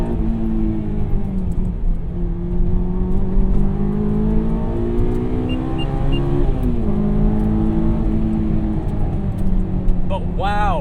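A 2001 Honda S2000 AP1 with a cable throttle pulls through the revs while driving, its engine rising and falling in steady sweeps under a continuous drone, with a sharp climbing whine near the end.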